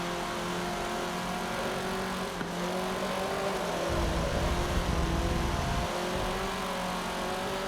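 An off-road buggy engine in Forza Motorsport 7 drones steadily and loudly throughout, with a shift in pitch midway as it revs up and then settles back, and no talking over it.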